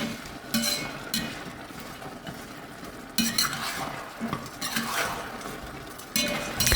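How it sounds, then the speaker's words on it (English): Pork ribs tossed in a pan of sweet and sour sauce over medium heat, with a steady close sizzle, scraping stirs and occasional clinks of a utensil against the pan. "toss around consistently, making sure each piece of ribs well coated with the sauce"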